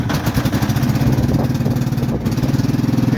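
A Cub Cadet Series 2000 lawn tractor engine, hard-starting after sitting eight months, runs loud and close with a rapid, pulsing chug that dips briefly before steadying into a rough idle.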